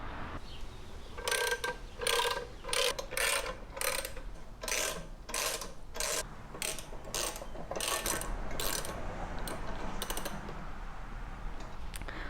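A motorcycle scissor jack is cranked upward, giving a run of evenly spaced ratcheting clicks in close bursts with brief pauses, loud and with no talk over it.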